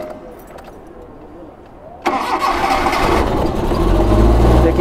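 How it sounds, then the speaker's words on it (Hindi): A Suzuki car engine, a Jimny or Pak Suzuki Bolan with a misfire problem, cranks and catches after a quiet stretch, then settles into a loud, close, rough idle. "देखिए अब गाड़ी स्टार्ट होने लगी।"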